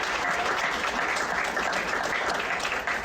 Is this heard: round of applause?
yes